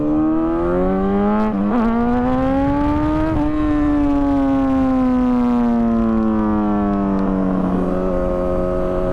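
A sport motorcycle engine revs hard during a power wheelie attempt, its loud, close tone climbing sharply for a few seconds, then easing into a long, gradually falling drone as the throttle settles.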